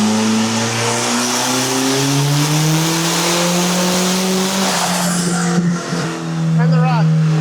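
Budget-turbocharged Toyota Camry in a hard third-gear pull: loud, close engine tone climbing steadily in pitch from inside the car, then a brief lift and shift near the end, with voices speaking over it.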